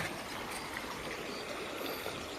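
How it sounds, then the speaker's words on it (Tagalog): A swollen stream runs strong after rain, giving a steady, close rushing of water with a continuous broadband wash and no break throughout. "Kusog ang tubig kaya nag-ulan ganiha."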